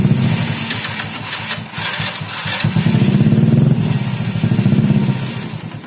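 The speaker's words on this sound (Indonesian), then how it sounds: "Oke, kita paksa lagi starter nyala gak ya?" A motorcycle whose carburetor has been sprayed with WD40 is cranked on its electric starter, loud and close, the engine churning in bursts, sputtering and catching into a rough, throbbing run.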